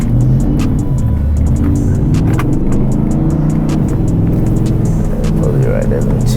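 8-inch lifted, tuned two-wheel-drive Ford F150 5.0 accelerating from a light with tires spinning, a loud throbbing engine drone heard from inside the cab, with people talking over it.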